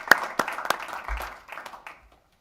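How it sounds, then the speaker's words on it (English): Scattered hands clap for a school board at a district business meeting, a handful of sharp separate claps that thin out and stop after about two seconds. "So a round of applause for the board."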